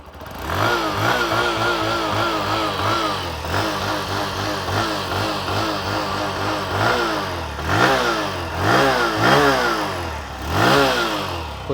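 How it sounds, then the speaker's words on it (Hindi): A 100cc commuter motorcycle engine revs repeatedly under throttle, its exhaust note rising and falling in steady bursts over a continuous idle, loud and close with no talking. "एग्जॉस्ट नोट सुनिए। थ्रॉटल देता हूँ,"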